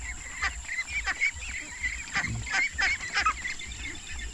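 Pet ducks calling in a repeated chorus of honking quacks, close and fairly loud, overlapping in irregular bursts against a faint steady background hum.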